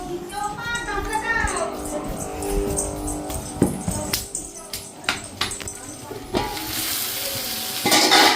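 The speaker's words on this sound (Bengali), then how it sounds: "পেঁয়াজকুলি রান্না হচ্ছে" Onion fritters sizzle in hot oil in a kadai, soft frying hiss under clinks and scrapes of utensils and pots, with people talking nearby.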